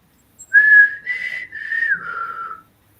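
A person whistles a short four-note tune imitating the Hunger Games whistle, clear and close, with the notes dipping slightly toward the end against silence.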